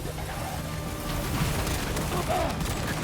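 Gunfire from the video game Death Stranding 2, a dense muffled spray of shots under a continuous mid-level game soundscape with voices mixed in.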